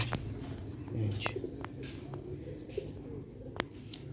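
A Sialkoti pigeon coos softly in low, throaty notes, with a few sharp bird chirps and clicks around it in a quiet setting.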